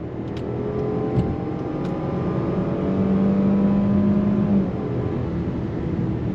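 2023 Range Rover Velar accelerating on throttle along winding roads, a steady muted engine drone with rising tones heard from inside a quiet cabin, continuous and moderately loud with no talk.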